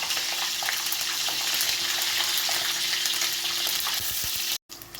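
Peppers fry in a pan in a home kitchen with a loud, steady, crackling sizzle close by that cuts off briefly near the end.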